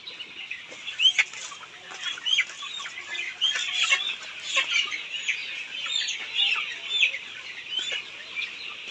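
Layer hens on a poultry farm cluck and squawk continuously, a dense overlapping chorus of many birds heard close by with no speech.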